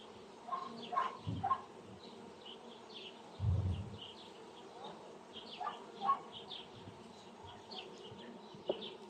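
Honey bees buzzing around a hive, a quiet outdoor hum with scattered louder passes close by, faint bird chirps in the background.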